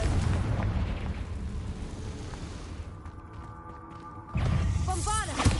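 Confringo fire spell explosion in Hogwarts Legacy on PS5, a booming blast that swells loudly, thins into a crackling fade, then erupts again with a whooshing burst near the end.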